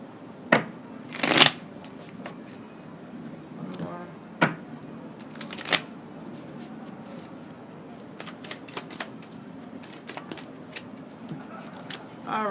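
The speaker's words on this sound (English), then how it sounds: "A couple more shuffles and I'll get right into the reading." Tarot cards being shuffled by hand in a series of crisp riffling bursts, loudest early on, with quieter card handling and faint rustles continuing throughout.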